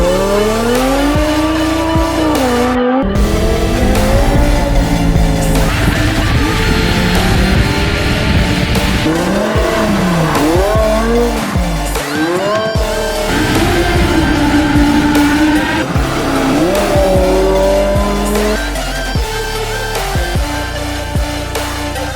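A BMW M6 drives hard at speed, its engine rising and falling through loud revving sweeps with tyre squeal and road roar, continuous and close throughout.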